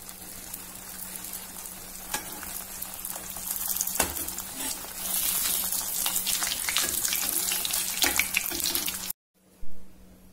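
Bottle gourd puris fry in hot oil with a loud, continuous crackling hiss and scattered sharp pops, building in intensity before a brief silence and one last short burst.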